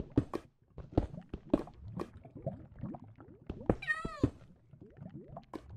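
A cat meows in Minecraft 1.14 with the Steamcraft modpack, one clear drawn-out meow standing out among soft scattered clicks and footsteps, no talking.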